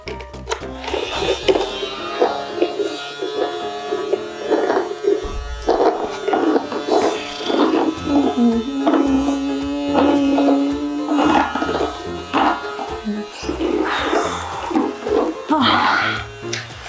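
A toy vacuum cleaner in a Barbie dream house playset buzzes in a steady electric whir while someone sweeps the floors, running under frequent talking and clatter.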